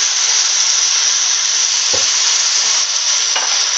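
Bacon and noodles frying in a pan with dark soy sauce, a loud, steady close sizzle with occasional soft knocks of a utensil stirring through it.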